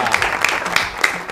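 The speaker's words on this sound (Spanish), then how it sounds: "Fuerte el aplauso para recibirla." Studio audience on a TV talk show applauds to welcome a female guest, a short burst of steady clapping with a crowd feel.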